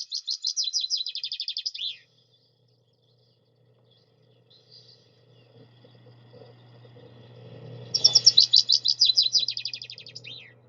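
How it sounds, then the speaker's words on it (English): Two bright, bubbly song phrases from a chaffinch, each a fast descending trill ending in a flourish, separated by quiet with a low hum. "The song is a lovely, bubbly, kind of descending song, which is very cheerful sound."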